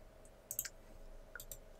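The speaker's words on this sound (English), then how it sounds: "I just keep clicking away that menu." Soft, sparse clicks sound while paging through a menu in the Otherworldly video game, a few quick taps in two small clusters over a quiet, faint background hum.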